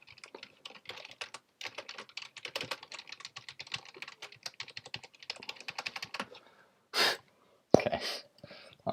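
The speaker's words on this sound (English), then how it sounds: "So I'm going to type this because it might be quicker and easier." Rapid typing on a computer keyboard, dense bursts of close, clattering keystrokes for about six seconds, then a pause and a few isolated louder clicks and knocks near the end.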